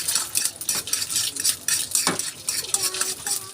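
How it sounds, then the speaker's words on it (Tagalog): A spoon stirs egg around a hot pan for sautéed pechay with misua, rapid scraping and clinking strokes over a soft sizzle, close and busy. "Haluin natin guys para maghiwala yung ano, yung itlog."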